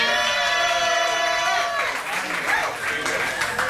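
Audience applause and cheering in a live music and comedy venue, a sustained dense wash of clapping and whoops from a crowd, with a sung or held musical tone fading out early.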